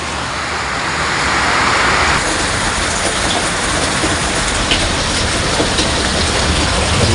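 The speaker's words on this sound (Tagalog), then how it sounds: "Umuulan na, malakas." Heavy rain pours during Typhoon Leon, a dense, loud, continuous roar of drops close by that swells slightly after the first couple of seconds and holds steady.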